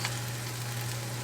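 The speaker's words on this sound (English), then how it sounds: "So we're just gonna let these bad boys sizzle." Food frying in a pan, a steady close sizzle that holds at an even level throughout with no talking over it.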